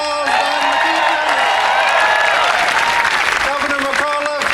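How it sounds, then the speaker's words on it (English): A health care rally crowd in Richmond applauds a congressman with loud clapping, cheers and whoops, while voices carry over the noise. "Give our newest congressman another round of applause."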